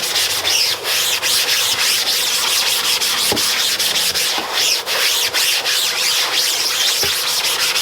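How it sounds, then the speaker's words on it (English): Steady, continuous rubbing over ink on a screen printing screen, a loud dry scraping swish that runs almost unbroken with a few brief dips and no speech. "I rub it right over the ink."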